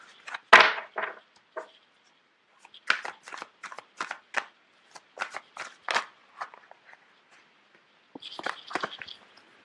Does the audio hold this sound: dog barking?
no